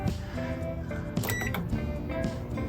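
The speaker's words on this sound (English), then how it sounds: "So let's take a look at the microwave. It's on." Microwave oven running inside a camper, giving a steady hum with faint tonal whine and light clicks and rattles, close and continuous with no speech.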